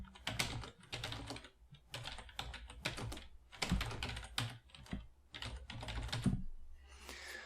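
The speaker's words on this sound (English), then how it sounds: "So let's just do some typing real quick." Fast, irregular clatter of typing on a computer keyboard with a mechanical-like click, captured close through a Tonor TC-777 USB microphone, with steady bursts of keystrokes and brief pauses throughout.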